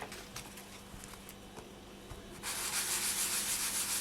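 Sandpaper rubs quickly back and forth across a small polymer clay pendant in quiet, close scratchy strokes, with the rasp growing louder and more continuous partway through.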